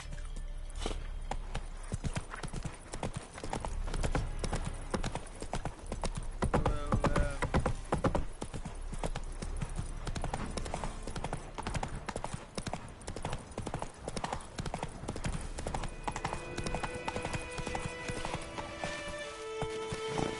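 Roach, a horse in The Witcher 3, gallops at speed with steady, rapid hoof clip-clops under a continuous wash of background game music and ambience, with a short whinny partway through.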